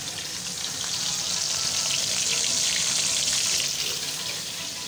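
Food sizzles steadily in a home kitchen pan, a continuous broadband hiss at fairly even loudness throughout, with no voices over it.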